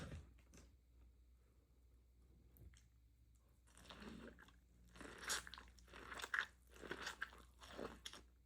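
Someone biting into elote, grilled corn on the cob heaped with extra mayo, with soft crunches and wet chewing that grow louder and closer toward the end, with no talking.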